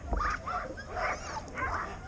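A part-shepherd dog whimpers and yips in short, high, whiny bursts, three or four close calls in quick succession, fairly near, with a little background noise.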